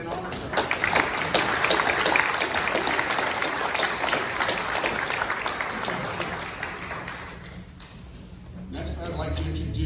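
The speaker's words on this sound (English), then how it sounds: "Please give a round to our round of applause to our bagpipers and honor guards" A crowd at a memorial highway sign dedication for a deputy gives sustained applause for bagpipers and honor guards, steady dense clapping that fades around eight seconds before a voice resumes.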